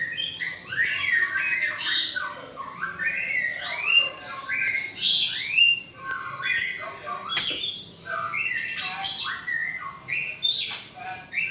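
Bright squawks, chirps and whistled phrases from several white-rumped shamas in breeding cages overlap continuously, close by and fairly loud, with no talking.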